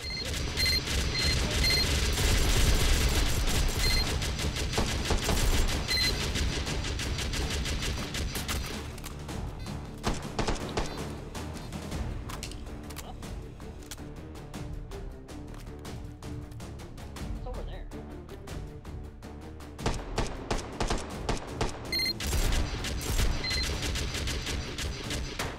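Sentry guns open up in the VR shooter Hot Dogs, Horseshoes & Hand Grenades, Take & Hold mode, with dense, sustained automatic bursts and booming impacts, loud and close, easing midway before a fresh volley returns near the end.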